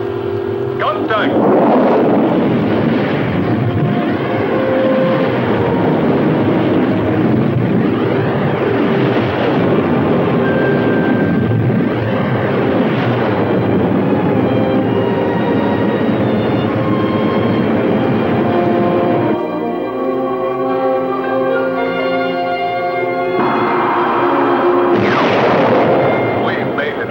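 Spaceship engines start and run at maximum in a 1960 science-fiction film, a loud, continuous roaring rumble with surging, shifting tones that persists throughout.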